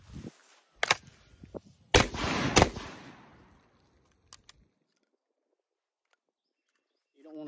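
A 12 gauge double-barrel coach shotgun fires during cowboy-style shooting: about three loud, sharp blasts in close succession, each with a rumbling tail, followed by a couple of faint clicks and quiet handling.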